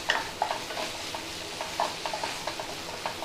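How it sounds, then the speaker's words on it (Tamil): Ginger garlic paste sautéing with onions in a pan for paneer masala, a soft steady sizzle broken by repeated scraping stirs of a spoon against the pan, close and clear with no talking. "அத சேர்த்துட்டு இப்போ வெங்காயத்தோட நல்லா பெரட்டி விட்டுருங்க."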